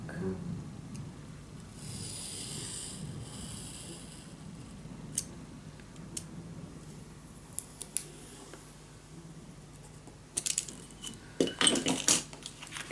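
Scissors cut paper from mark to mark for a lace mini album, a run of quiet, close snips and crisp crinkles that grow into louder rustling and clicking toward the end.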